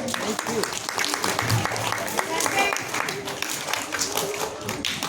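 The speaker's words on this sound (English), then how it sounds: "give him a big round of applause." Audience applause at a children's fancy dress competition, a dense patter of many hands clapping continuously with a few louder taps, close and lively throughout.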